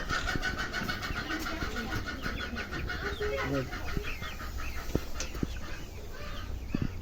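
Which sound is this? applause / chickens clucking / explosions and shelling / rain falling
chickens clucking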